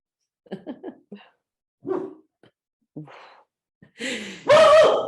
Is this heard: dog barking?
yes